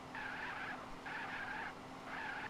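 Car tires skid and screech in the video game GTA San Andreas, three repeated squeals of roughly half a second each, separated by brief gaps and heard without talk.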